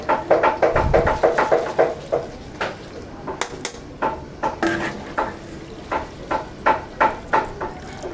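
Oil sizzles in a pan while frying dried chilies for sambal, a utensil repeatedly scraping and stirring, producing rhythmic clinks and crackles up close.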